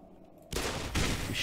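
Gunfire in the video game Black Mesa: quiet at first, then a sudden loud burst of shots that swells again near the end, dense and continuous with no talk.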